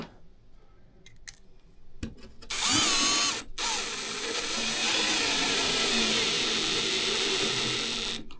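A Milwaukee SubCompact impact driver on speed 2 drives a fastener into sheetrock, opening with a few faint clicks and then a loud, sustained high whirring rattle that runs close and steady to the end, with no voices.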